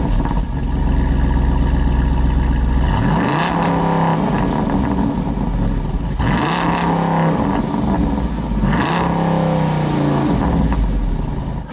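A 2022 Jeep Wrangler Rubicon 392 V8 exhaust rumbles at idle, then revs sharply three times, each rise climbing and falling back to a deep, loud burble.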